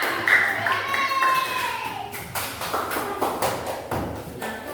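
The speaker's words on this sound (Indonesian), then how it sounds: "tepuk tangan dulu untuk Kaila" Classmates clapping for a student named Kaila in an elementary school lesson, a scattered, uneven burst of small-group applause with sharp individual claps, a teacher's voice and children's chatter in between.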